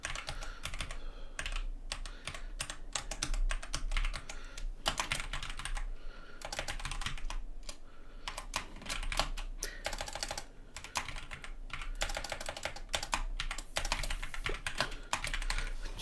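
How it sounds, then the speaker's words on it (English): Rapid, uneven bursts of clicking keystrokes on a computer keyboard, close and continuous throughout, with short pauses between flurries of typing. "Wow, I cannot type today."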